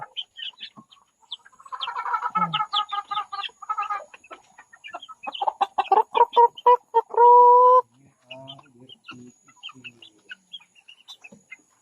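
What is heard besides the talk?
chickens clucking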